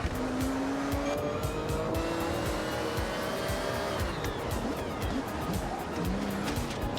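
A Ferrari races through corners in the Forza Horizon video game, its engine revving steadily as gears shift and tires squeal through the turns, loud and continuous with no speech over it.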